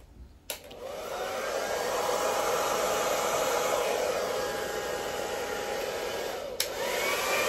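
A hair dryer blows air across an acrylic paint pour, a loud steady whooshing hum that switches on abruptly, runs for several seconds with a brief click partway through, and continues to the end.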